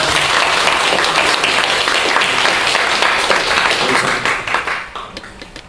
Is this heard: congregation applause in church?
yes